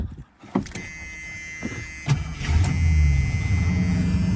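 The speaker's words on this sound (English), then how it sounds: "Put the key in the ignition and start it up before we wrap this up." A 1978 AMC Matador coupe being started: a few clicks and a short crank, then the engine catches and settles into a steady low idle, close up with no talk.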